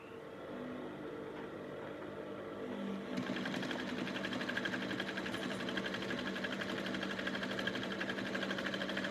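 A sewing machine stitches the back piece of a button shirt, a low hum at first, then a louder, steady rapid whirring after about three seconds that keeps going evenly to the end, close and with no talk.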